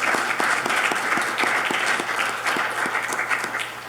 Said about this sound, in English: please join me in a round of applause for our folks